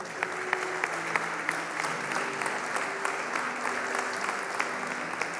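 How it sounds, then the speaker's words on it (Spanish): A church congregation applauds during a worship service, sustained crowd clapping with sharp individual claps standing out, held evenly for several seconds at moderate distance. "Dele un aplauso al Señor."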